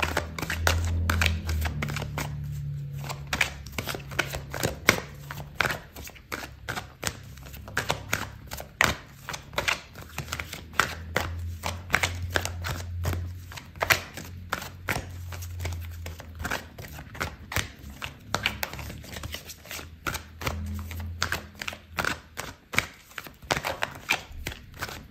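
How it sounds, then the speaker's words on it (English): Tarot cards being shuffled and drawn, a dense run of quick, crisp paper flicks and snaps with brief pauses, close and moderately loud, with no talking. "Okay, so I'm gonna pull out another card for you."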